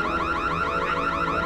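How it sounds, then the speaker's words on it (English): A smart house alarm sounds alone in a cold home, its electronic siren wailing in a steady, loud, rising-and-falling cycle that repeats without pause. "Now the alarm is going off."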